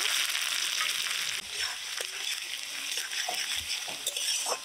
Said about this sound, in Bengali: পেঁয়াজগুলো লাল লাল করে ভেজে নিয়েছি